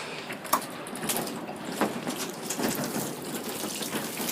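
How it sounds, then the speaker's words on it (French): Freshly sown lettuce seeds under a thin layer of compost are watered in a February garden, giving a steady close splashing and pattering of water with a couple of brief louder spatters. "on va arroser une petite fois"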